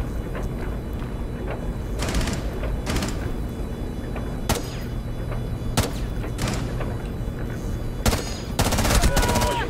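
Sharp gunshots ring out in a round of Rainbow Six Siege, single cracks spaced a second or two apart, then a rapid burst near the end, all over a low steady game ambience.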